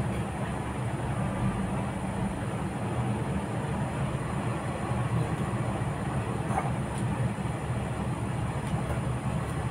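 A constant, loud mechanical whir drones on evenly, like a fan running close by, with no voices over it.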